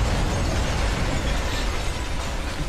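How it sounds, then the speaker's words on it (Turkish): Explosion in the video game Sniper Elite V2, a dense, loud burst of crackling blast noise and rumbling debris that stays full and sustained across the moment, with no voices. "Patladı ya."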